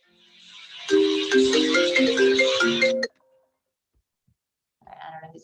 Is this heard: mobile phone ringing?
yes